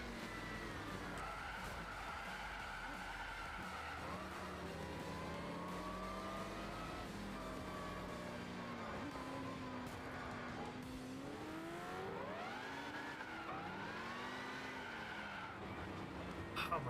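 Car drifting in Gran Turismo 6, drawn-out tyre skid squeals that rise and bend over a revving engine, continuous through the stretch with a voice talking underneath.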